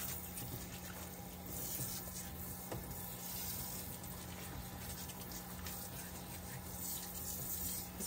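Running water rinsing shampoo out of a pet's coat during grooming, a steady, faint wash of flowing water with no distinct splashes and no talking.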